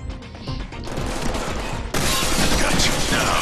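Dense gunfire rattles in the Deadpool video game on Xbox 360, rapid overlapping shots and bursts that grow louder and more intense partway through, with game effects mixed in.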